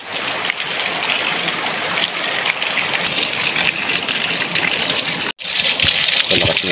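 Water rushes from an off-grid gravity-fed supply pipe with no motor, a continuous loud gushing roar that cuts out for an instant before resuming, with a voice briefly audible.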